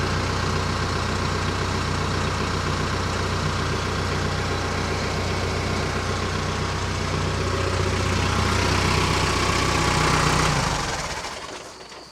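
A TYM T474 HST tractor engine idles in a steady, loud drone with a low throb, then shuts off and winds down near the end.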